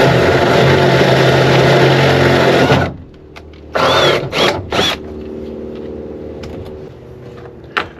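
A Ryobi power drill bores into a door panel in a military vehicle cab: a loud, steady whir for about three seconds, then a few short, sharp bursts, with quieter background noise between them.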